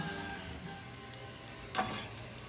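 Butter melting and sizzling in a pan before mushrooms go in, a steady soft crackling hiss running throughout with one brief louder pop or clatter near the end.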